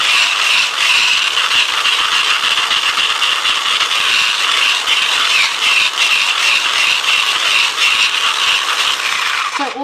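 A whisk beats cream for a sugar-free, dairy-free pavlova, giving a steady, fast, scraping rattle against the bowl that carries on close and loud without a break.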